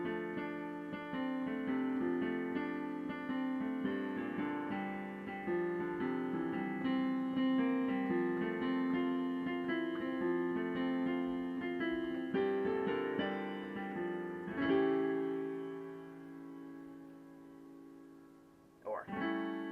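Piano playing the closing passage of a song from La La Land, sustained chords and a slow melody ringing together, with a pause near the end followed by a last soft struck chord.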